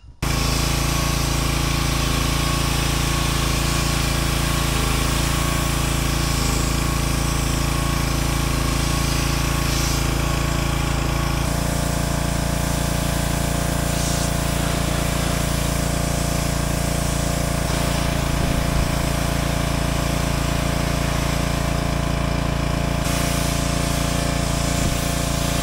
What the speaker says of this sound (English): I'll come back and pressure wash it off